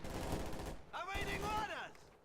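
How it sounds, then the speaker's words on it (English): Machine gun fire in Company of Heroes 2 crackles as a dense battlefield fusillade for most of the moment, with a voice talking over the second half. "It's gonna be interesting to see how Delcore responds to that machine gun that he took fire from a second ago."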